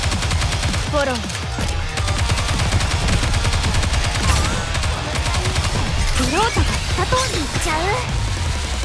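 Rapid, dense gunfire from the mobile shooter game Goddess of Victory: Nikke fills the whole stretch, loud and continuous, with character voices talking over it.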